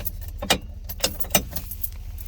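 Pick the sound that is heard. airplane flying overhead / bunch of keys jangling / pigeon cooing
bunch of keys jangling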